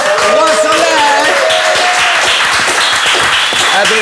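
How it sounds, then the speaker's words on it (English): Studio audience applause on a talk show, steady clapping running throughout while a voice talks over it prominently. "Big applause for Roi Soleil."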